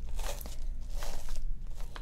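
Dry scratchy crunching of a stiff 1-inch paintbrush dragging across canvas, repeated short strokes, close and fairly quiet, no speech.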